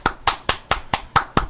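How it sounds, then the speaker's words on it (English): Seven sharp, evenly spaced hand claps come at a quick, steady rhythm, close and clear, with no voices over them, as a round of applause during an online advice show stream. "I want a round of applause"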